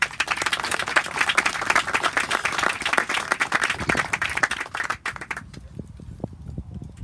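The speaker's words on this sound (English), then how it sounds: "Let's please give a big round of applause" Outdoor audience at a district recreation center groundbreaking ceremony applauding, dense steady clapping from a crowd that fades out near the end, leaving quieter scattered sounds.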